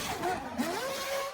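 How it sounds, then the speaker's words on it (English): A Formula 1 V8 engine revs at a distance, a short rising and falling mechanical whine with a quick throttle blip, fairly faint, with no talk over it. "The symphony you're hearing is coming from the Formula 1 V8 engine."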